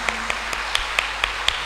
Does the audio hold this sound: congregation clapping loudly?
yes